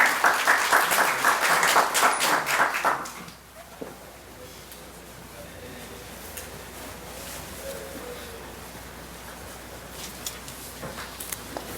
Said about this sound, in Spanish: pedimos un fuerte aplauso para el doctor Benjamín Martí Corena